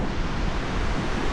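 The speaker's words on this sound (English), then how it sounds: "Absolutely beautiful looking waterfall" The double waterfall at Ebor Falls on Waterfall Way, NSW, gives off a loud, steady roar of falling water with outdoor wind noise mixed in.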